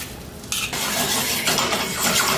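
Stewed tuna being stirred in a pot, a close, dense scraping and sizzling swirl that starts abruptly after a short quieter moment and continues steadily; no one talks.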